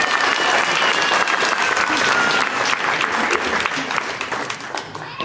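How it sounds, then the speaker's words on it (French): Sustained applause from an outdoor crowd gathered in the rain, steady and dense throughout, tapering slightly toward the end. "je pense que vous pouvez aussi vous applaudir car ça c'est grâce à vous."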